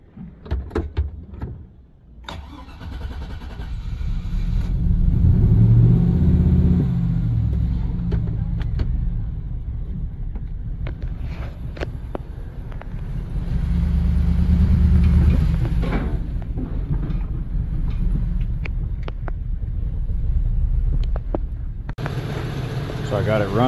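A car with a P0300 random misfire and no power idles roughly in a shop, a low rumbling engine that swells and dips unevenly, with a door sound and someone talking at times over it.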